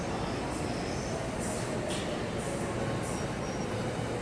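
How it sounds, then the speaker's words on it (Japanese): A JR Joban Line train rumbles into Kashiwa station, a steady broad roar of wheels and motors at the platform, with faint hissing bursts above it. "勝田行きが参ります。 危ないですから黄色い線までお下がりください。"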